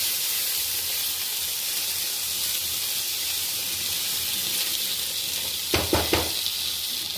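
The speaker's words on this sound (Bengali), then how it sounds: "নাড়িয়ে একটু ভাজা ভাজা করে নেব।" Gobindobhog rice fried in oil and ghee with whole garam masala gives a steady, close, even sizzle throughout, with a few sharp stirring scrapes near the end.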